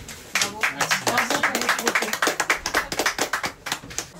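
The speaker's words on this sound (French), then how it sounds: "Et puis vous pouvez être très très fiers et on peut vous applaudir." Audience at a hackathon applauding a team, a burst of brisk, dense hand clapping that starts sharply and carries on steadily close by, with a voice briefly heard.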